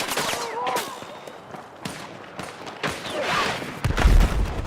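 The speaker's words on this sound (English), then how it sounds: "Where are they shooting from?" Scattered video game gunfire, distant shots and bursts cracking irregularly, ending in a heavier low thump, with a voice speaking over it.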